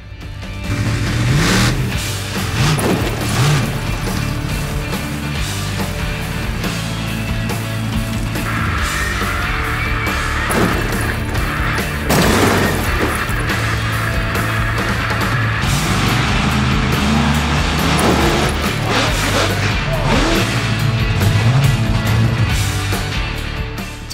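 A home-built monster truck assembled from lorry and digger parts, its engine revving hard and steadily nearby, loud and sustained with surges in pitch as it gets ready to crush cars.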